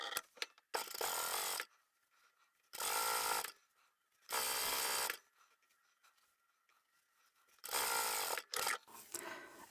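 A sewing machine stitches around a fabric card-holder wallet in four loud, buzzing bursts of about a second each, separated by quiet pauses while the work is turned.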